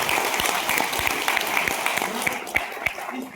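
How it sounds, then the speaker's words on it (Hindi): An audience at an indoor business seminar in India claps steadily, a dense, close round of applause that continues throughout without a break. "और खास तौर से मैं सूर्य प्रकाश जी के लिए एक बार तालियां जरूर चाहूंगा।"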